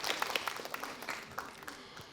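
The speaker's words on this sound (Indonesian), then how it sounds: "Beri tepuk tangan yang paling meriah sekali lagi Bapak Ibu sekalian" Applause from an audience at a children's preaching competition, a soft, fairly distant patter of clapping that goes on steadily for a couple of seconds.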